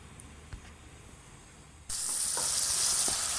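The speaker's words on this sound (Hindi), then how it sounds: "अब इसी ऑयल में हमने ना जो हमारा चॉप किया हुआ प्याज है, लहसुन, सब्ज़ मिर्चा वो डालेंगे" Chopped onion, garlic and green chili drop into hot oil and burst into a loud, steady sizzle that continues to the end, after a quiet stretch with a couple of faint taps.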